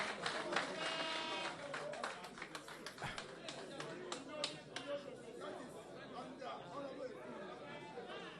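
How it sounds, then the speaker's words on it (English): At a press conference, scattered clapping and chatter from the room rise briefly and then thin out into murmuring voices and occasional taps. "Another round of applause for this"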